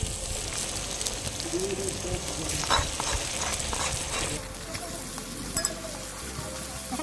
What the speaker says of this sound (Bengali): পেঁয়াজ আর রসুনটা ভাজা হয়ে গেছে